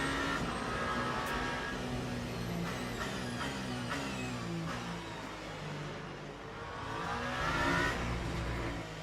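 A Toyota hypercar engine in a racing video game revs and shifts through the gears, a loud, near whine that climbs and falls repeatedly as the car accelerates around an Imola-style circuit.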